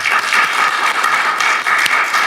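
A seminar audience gives warm, steady applause to welcome a sociology professor to the lectern, a dense and even burst of clapping throughout.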